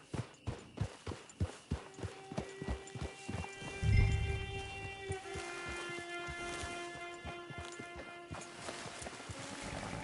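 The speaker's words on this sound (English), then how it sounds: "Hitch your horse." Horse hooves clip-clopping in the video game Red Dead Online, a steady run of close hoofbeats that slows and stops, followed by a soft thud, with a low drone and sustained tones lingering underneath.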